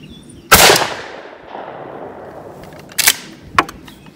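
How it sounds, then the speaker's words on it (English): A single sharp, loud report from a Mossberg 835 shotgun firing a 12-gauge turkey reload with a Kicks 680 GT choke at 40 yards, followed by a decaying echo and a couple of smaller clicks and clatters at an outdoor range. "Mossberg 835, Kicks 680 GT. See what this does at 40."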